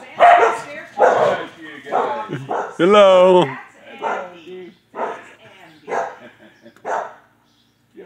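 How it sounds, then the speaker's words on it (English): A dog barks loudly and close in several bursts with yips and a whimpering whine, mixed with people talking nearby. "You don't know who you're barking at."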